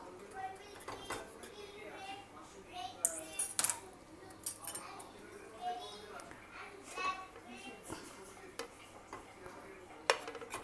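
A dal pancake being cut into triangle pieces on a plate, with scattered clinks and taps of cutlery against the plate, fairly quiet, a voice talking over it.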